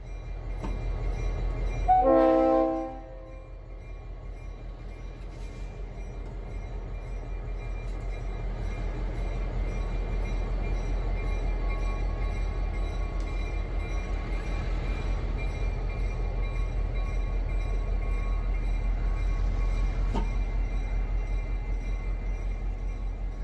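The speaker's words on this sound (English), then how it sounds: "2008 completes its air test on the 1129 and pulls up to the switch at the south end of the" Diesel locomotive 2008 rumbles steadily as it pulls up to the yard switch after its air test on the 1129, with a brief horn-like burst early on over a continuous low engine drone.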